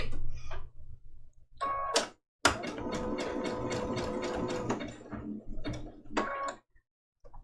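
A sewing machine runs in short and longer bursts while stitching raw edge applique on a Christmas ornament trivet quilt, its rapid needle clatter loud and near, with brief stops between runs.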